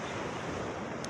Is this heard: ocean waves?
yes